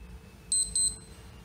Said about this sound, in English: At a beep that you heard is a blip blip